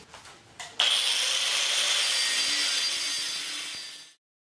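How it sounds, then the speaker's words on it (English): Steady, continuous power sawing through metal antenna tower stock, with a brief hesitant start before the blade bites fully, then a loud bright grinding cut held for about three seconds before stopping abruptly. "Now that we got our tower cut off"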